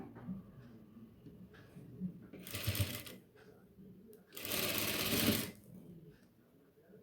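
A sewing machine stitches lace onto a nighty neckline in two short bursts of rapid whirring, with quiet handling noise between runs.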